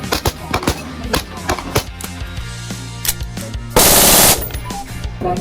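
Sig Sauer rifles fired at a military shooting demo day, loud rapid bursts of sharp gunshots cracking close by with uneven gaps, one brief blast of broadband noise midway.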